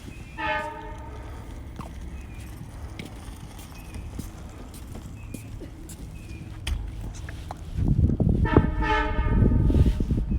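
An LIRR train departs Speonk station, sounding its horn in a short blast and then again more loudly, with the low rumble of the moving train building beneath the second blast.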